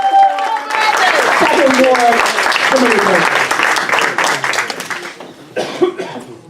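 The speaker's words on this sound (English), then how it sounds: "let's give a round of applause for Brandon Bernier" Audience applause at a town meeting, broad clapping that swells under a speaker's voice, with cheers mixed in, then thins into scattered claps and a few coughs toward the end.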